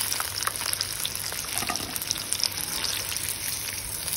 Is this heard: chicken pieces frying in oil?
yes